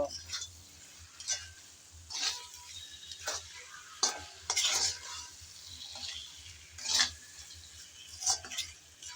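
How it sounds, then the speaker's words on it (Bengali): Mango relish with sugar being stirred and fried in a pan: scattered scraping stir strokes over a low, quiet sizzle, close up, with no talking. "এখন চিনিটা দেওয়ার পর নেড়ে চেড়ে আবারও ভালোভাবে কষিয়ে নেব।"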